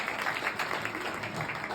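An indoor audience applauds at a gathering, giving a dense, steady patter of many hands clapping at moderate loudness with no pause or build.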